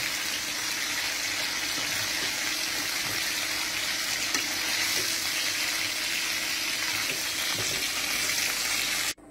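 Chicken pieces frying in oil in a pan for biryani, a dense continuous sizzle close by with faint stirring, running steadily before cutting off abruptly.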